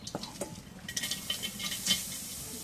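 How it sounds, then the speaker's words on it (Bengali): Chopped onion goes into a wok in a home kitchen, with close clatter of a utensil against the pan and a light sizzle building over a few seconds, no talk. "কড়াই পেঁয়াজ কুচি দিয়ে দিই"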